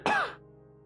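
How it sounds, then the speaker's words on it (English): A single sharp cough and throat clear from a sick person, close and brief, fading into quiet room tone. "I think I'm gonna cough again."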